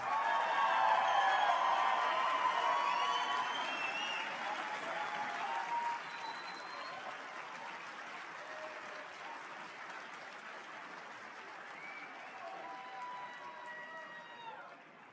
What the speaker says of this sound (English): Let's give a rousing round of applause for the 3rd Infantry Division Army Band.